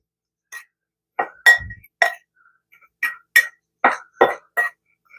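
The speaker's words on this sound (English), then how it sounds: "I'm going to kind of stir this up a little bit" A spoon stirs a mixture with pink Himalayan salt in a glass or ceramic bowl, giving eight or nine distinct bright clinks spaced unevenly over a few seconds against near silence.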